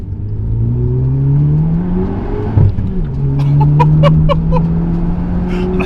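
A Renault Megane RS Trophy-R engine revs hard and climbs through gears, rising pitch sweeps broken by a brief shift thump, loud and close from inside the car.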